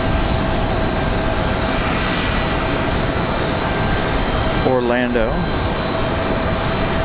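A Southwest airliner arriving at Raleigh-Durham International on a windy day gives a loud, steady roar throughout, and a voice speaks briefly in the middle.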